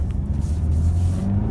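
A 2017 Honda CR-V SE Plus engine accelerating on a back road, heard from inside as a steady low drone that rises slightly, with no talk.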